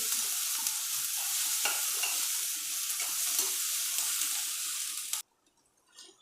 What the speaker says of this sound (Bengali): লঙ্কাটা একটু ভেজে নেব